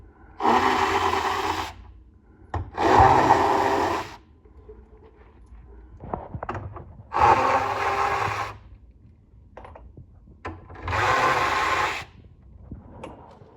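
A power tool whirs in four separate bursts, each lasting one to one and a half seconds, as bolts are taken off a Mack MP7 radiator tank. Softer clanks and tool handling fill the pauses between bursts.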